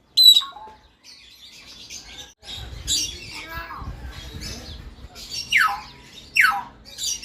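A zoo bird in Saudi Arabia gives a varied run of calls: sharp squawks, chirps and quick descending whistles in separate bursts with short pauses, fairly soft against a quiet background.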